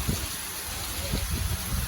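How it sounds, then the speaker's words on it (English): Heavy rain pours during a warm, windy storm in flooded Vermont, a steady close hiss with gusty low rumbling of wind buffeting throughout. "That rain is coming down."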